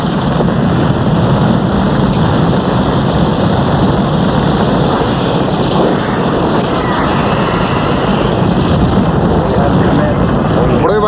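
Apollo rocket engines roaring at launch: a dense, loud, continuous broadband rumble with a steady hiss, unbroken for over ten seconds, heard as distant, muffled archival sound.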